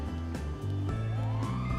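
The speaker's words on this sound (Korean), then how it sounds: "이 동네 어 경찰이 경찰차 소리가 들리고" Police car siren in the game GTA 5, a loud wailing tone that steps between pitches and sweeps upward over a low hum, brief and close.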